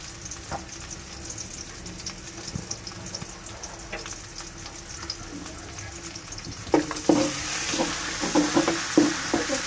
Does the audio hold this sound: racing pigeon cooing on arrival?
no